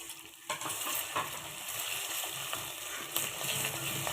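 Chopped onion frying with roasted coconut in a pan, a continuous close sizzle with soft stirring scrapes running throughout, no voices.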